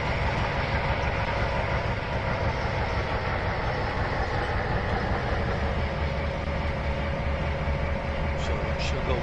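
A Trainz 2019 locomotive strains up a slight grade as a continuous, heavy rumble with a steady low-pitched engine drone, loud and unbroken for about nine seconds.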